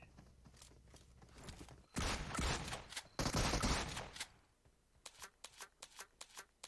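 Gunfire in PUBG Mobile, heard as dense rapid bursts of shots in two sustained volleys, then a string of separate sharp single shots near the end, fairly close and loud with no talk.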